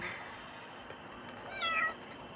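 A stray cat meows once or twice, a short rising call near the end, over a steady background hiss.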